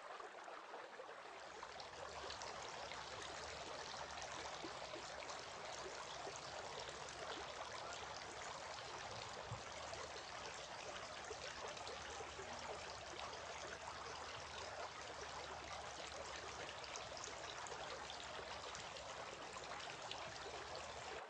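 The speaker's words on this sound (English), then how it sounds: "Then he took a handful of water and washed his right forearm, and again took another handful of water and washed his left forearm." Water pours and trickles over the forearms during ablution before prayer, a steady, continuous splashing flow that runs evenly throughout, fairly faint and with no voices.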